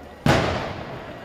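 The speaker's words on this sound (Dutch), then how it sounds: "wordt al volop vuurwerk afgestoken" A single loud firework bang bursts close by at a dockworkers' protest march in Rotterdam, cracking sharply and then echoing and decaying through the street.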